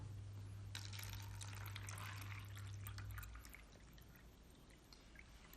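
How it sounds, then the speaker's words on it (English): Water is poured from a container into a cup holding a coin during a classroom refraction demonstration, a close, steady splashing pour lasting about two and a half seconds before it stops and leaves quiet room tone. "I will pour some of the water into the cup."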